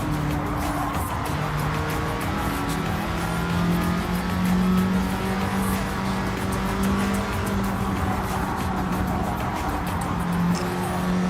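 A racing car engine in Gran Turismo 7 drones steadily at high revs, its note holding long through tall gears with slight rises and falls, loud and continuous with faint tire noise and no talk.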